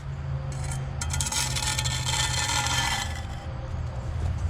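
A trowel scrapes along wet mortar joints on a concrete block wall, giving a close, steady rasping drag that swells in the middle, with no talking.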